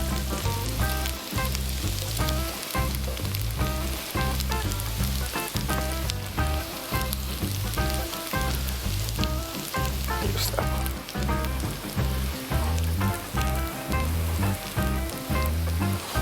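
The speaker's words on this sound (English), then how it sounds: "Once you get that butter nice and melted, let's get your toast in there. Just place them right in." Toast sizzling and frying in melted garlic butter in a pan, a steady crackling hiss with light pops, continuous and moderately close, with a faint rhythmic background underneath.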